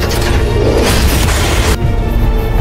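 A loud generator explosion in a film hits with a heavy, dense roar that sustains for over a second and a half and then drops away into a rumbling tail.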